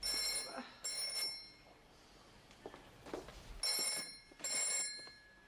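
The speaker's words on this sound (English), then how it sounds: "Of course, the phone rings immediately." A telephone bell rings in two pairs of bright, trilling bursts, first at the start and again near the end. It sounds fairly close, with quiet room noise in the gap between.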